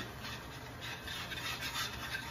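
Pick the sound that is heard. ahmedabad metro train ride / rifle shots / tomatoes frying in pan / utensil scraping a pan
utensil scraping a pan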